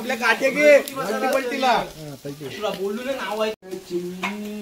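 Tandoori chicken cooks at a farmhouse gathering of friends, sizzling steadily beneath loud, continuous talking from nearby voices.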